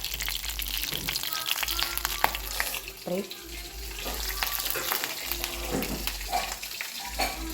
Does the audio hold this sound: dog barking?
no